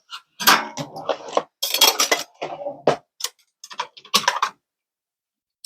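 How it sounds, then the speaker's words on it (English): Silverware and dishes clinking and clattering in short bursts while being put away in a kitchen during a morning coffee routine, close and fairly loud with pauses between handling. "Put my silverware over here."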